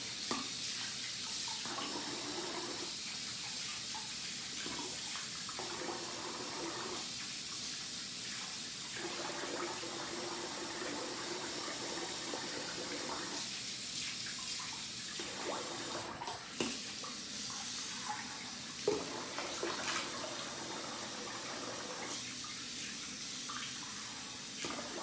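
Tap water runs steadily into a sink while someone rinses off after a shave with a double-edge razor, the flow broken by brief splashes and interruptions as hands and face move through the stream, fairly close and continuous.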